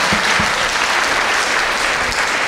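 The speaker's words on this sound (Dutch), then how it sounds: "Applaus, ja." Audience applause at a school education closing event on stage, a dense, steady wash of clapping filling the whole moment without voices.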